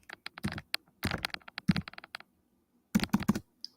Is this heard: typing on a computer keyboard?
yes